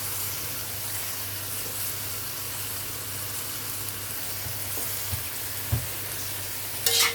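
Chop suey vegetables, including cauliflower and celery stem, sizzle steadily in a pan as they are stirred, with a constant hiss and a few scraping knocks near the end.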